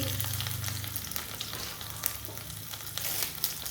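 Coconut oil tempering with mustard seeds and garlic crackles and sizzles steadily up close, a dense hiss of frying with faint stirring scrapes and no voices.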